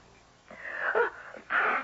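A single sneeze in a radio drama, a short breathy build-up followed by a sharp burst, close and fairly quiet in a still room.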